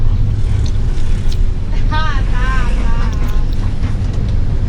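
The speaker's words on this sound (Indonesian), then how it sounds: "Suasana kota cukup ramai oleh kendaraan-kendaraan pribadi maupun oleh truk-truk yang" Busy city traffic in Binjai, private cars and trucks passing, heard as a continuous loud road rumble with wind buffeting, while someone speaks over it partway through.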